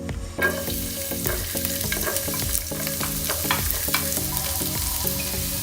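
Onion and garlic sautéing in a hot pan for penne arrabbiata, a steady close sizzle with repeated rhythmic scraping and tapping from stirring.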